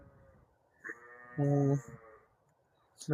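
A pedigree ram at a livestock farm gives a single loud, drawn-out bleat at close range, with a shorter bleating sound just before it and quiet background noise.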